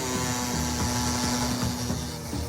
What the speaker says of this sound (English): Mike and Tony are sanding the body.